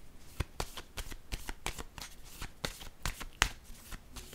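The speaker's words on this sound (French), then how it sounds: "Je vais déposer une autre carte ici." Tarot cards handled on a table, a run of quick, crisp card slaps and flicks in an uneven rhythm, close and fairly quiet, with no talk.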